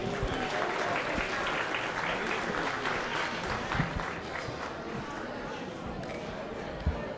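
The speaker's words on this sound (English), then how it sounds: "Let's give them all a big round of applause." An audience applauds steadily at a junior livestock show, a dense and sustained wash of clapping filling the arena for several seconds, with voices mixed in underneath.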